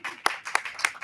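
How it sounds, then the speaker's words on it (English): An audience claps for a performer stepping up to the mic, three sharp, loud bursts of clapping in quick succession, close and without talk. "we're going to keep clapping"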